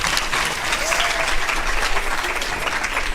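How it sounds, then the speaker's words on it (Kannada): Steady, dense applause from a church congregation welcoming servants at a Kannada Christian service, loud and close throughout with faint voices mixed in. "ಬನ್ನಿ ನಮ್ಮ ಸೇವಕರಿಗೆ ನಾವೆಲ್ಲರೂ ಚಪ್ಪಾಳೆಯಿಂದ ಸ್ವಾಗತ ಮಾಡೋಣ."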